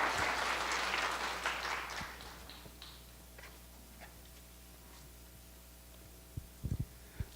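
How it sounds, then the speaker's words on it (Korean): Applause from a church congregation at a Friday prayer meeting, loud and dense at first, then tapering off after about two seconds into a quiet room hum with a few scattered knocks. "우리 박수로 한번 환영해 주세요."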